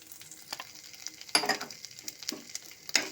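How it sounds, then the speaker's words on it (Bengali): Grated coconut fries in a pan over medium heat alongside cumin and asafoetida, giving a soft, crackling sizzle with scattered pops and stir scrapes, fairly quiet and close, with no talking. "আর নারকেলটাকে ভালো মতো করে একটু ভাজা ভাজা করে নেব।"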